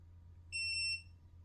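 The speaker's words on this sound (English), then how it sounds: "And you could hear the beeps." An EcoFlow DELTA 2 LiFePO4 portable power station gives a short burst of high, thin electronic beeps, about three quick tones in a row, clear against a quiet low hum.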